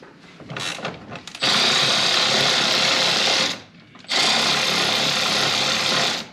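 A power tool whirs in two sustained, loud bursts of a few seconds each, separated by a short pause, with scattered mechanical clicks before the first run; this fits a powered ratchet wrench at work during home modifications.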